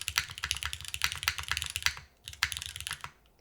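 Fast typing on a Neo65 Core Plus 65% mechanical keyboard, with quick clacky keystrokes in close, bursty rhythm and a brief pause before a final flurry.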